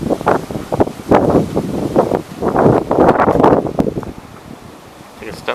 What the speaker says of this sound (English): Comes a good gust.